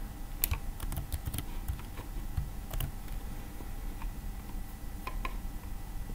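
A password is typed on a computer keyboard in quick, irregular bursts of crisp clicks, close and clear over a quiet room, with short pauses between keystrokes.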